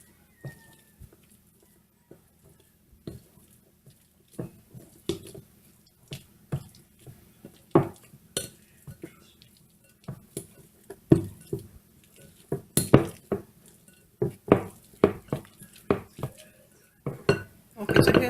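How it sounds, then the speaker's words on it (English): Black beans are mashed into a paste in a bowl, with soft irregular squishing and clinking utensil taps close by, scattered and sparse at first and then quicker and louder near the end, and occasional quiet speech. "just simply try and mash this up into paste like"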